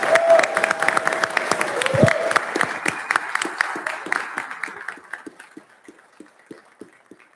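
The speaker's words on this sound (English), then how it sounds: "can we get a round of applause for our champions, please?" A council meeting crowd gives a round of applause for the champions. Brisk clapping starts loud and dense, then thins and fades into scattered claps, with a voice briefly heard at the start.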